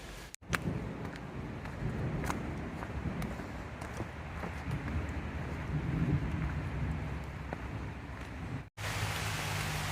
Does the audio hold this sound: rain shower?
yes